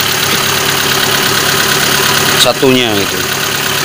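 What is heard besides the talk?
used car engine idling after spark plug replacement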